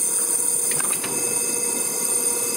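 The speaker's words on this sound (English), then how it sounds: "in this machine, the carton is now pulled out of the magazine by the suction cup" A packaging cartoning machine pulls a carton from its magazine by suction cup: a steady mechanical whir and hum, with a brief cluster of soft clicks and puffs near the start. No one speaks.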